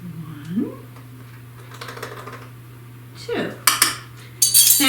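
A metal spoon clinks and scrapes against a bowl while mixing ice cream with pumpkin and pumpkin pie spice, with sparse taps at first and then quicker clatter at close range under a steady low hum.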